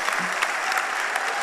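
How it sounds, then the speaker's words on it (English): Congregation applauding at a birthday celebration for a pastor, a dense, steady wash of clapping filling the short moment without a break. "Please, can we clap again and again and again?"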